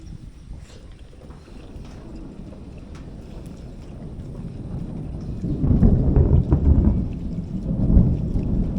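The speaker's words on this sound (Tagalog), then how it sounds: "Kumukulog-kulog." Thunder rolls during a rainstorm, a broad low rumble over a steady wash of rain that swells louder in the second half. No voices.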